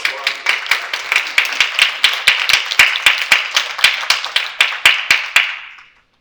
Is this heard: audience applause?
yes